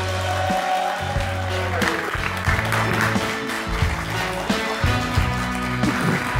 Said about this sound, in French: Vous assurez les mêmes applaudissements, aussi chaleureux, aussi fous.